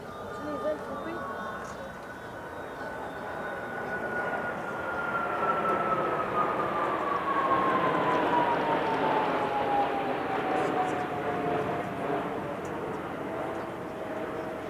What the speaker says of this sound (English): Solo performance by a US Marine Corps F-35B.